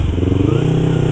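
A 2015 Yamaha YZF-R25 motorcycle engine hums steadily and loudly nearby, a continuous throbbing drone as it cruises along a road.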